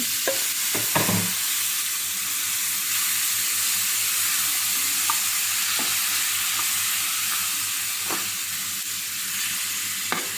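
Tuna for sambosa sizzles steadily in a hot pan, with loud, constant frying hiss and occasional scraping stirs close up.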